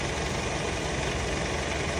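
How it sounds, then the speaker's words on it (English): A cargo van engine with a recently fixed slow oil leak idles at a steady, continuous low rumble close by, with no voices. "the engine's running great"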